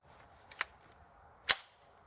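Two sharp, fairly faint cracks from a .22 Magnum rifle fed by a Champion aftermarket high-capacity magazine firing CCI 40-grain total metal jacket rounds, a quieter shot then a louder one about a second apart, with no talking.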